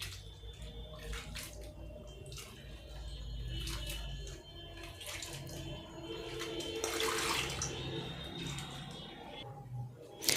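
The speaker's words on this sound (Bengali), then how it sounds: "আলুটিকে ছেঁকে নেওয়ার পর আমরা পুনরায় জল দিয়ে ওকে খুব ভালো করে আবার চটকে চটকে ধুইব।" Mashed boiled potato is squeezed and rinsed by hand in a bowl of water. Soft sloshing and splashing run throughout at low level, with a louder swish in the middle.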